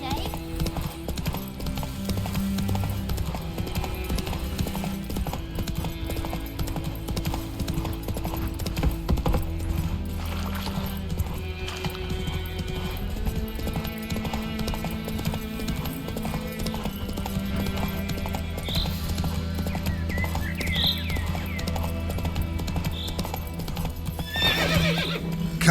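Witcher 3's horse Roach trots with steady hoof clip-clops and gives whinnying neighs, all set against continuous game music, with a voice speaking now and then.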